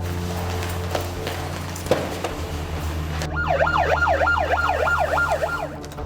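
An ambulance siren wails as emergency crews arrive at a multi-family house in Seoul. It cuts in partway through over low road rumble and repeats a steady rising-and-falling cycle that stays loud and close to the end.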